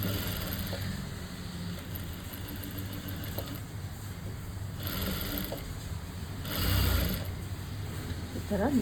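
A sewing machine stitches a plain blouse with a steady, close mechanical whir and faint ratcheting, rising briefly louder near the end, while someone talks over it.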